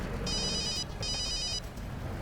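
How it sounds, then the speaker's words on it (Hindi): A telephone rings indoors with two clear electronic bursts of ringing separated by a short pause, loud and close over a low background hum, with no talking. "दया सर का फोन।"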